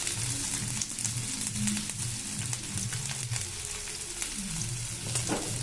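Onion fries in a pan with a soft, continuous sizzle and occasional stirring scrapes, heard close but at low volume over a faint background hum, with no talking.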